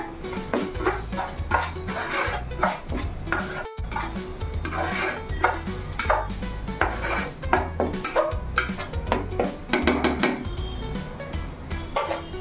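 Turmeric being stirred into fish curry in a pan, with repeated close scraping and clinking of a metal spoon against the pan in a steady rhythm.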